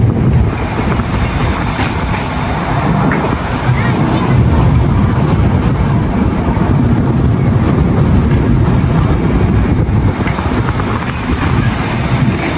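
A loud, continuous rumble of a train crossing a railway bridge in Cologne, Germany, close by, steady clatter and rattle of wagons with muffled voices mixed underneath.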